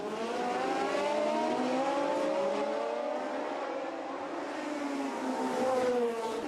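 A historic Brabham race car with a damaged front left wing races at Monaco, its engine a loud, sustained howl whose pitch rises and falls as the driver works through the gears.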